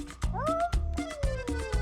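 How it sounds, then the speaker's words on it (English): Two cats fighting, giving repeated drawn-out meows and rising, wavering yowls with short low thumps between them, close and fairly loud. "Usually I'm pretty good at breaking up cat fights before they escalate"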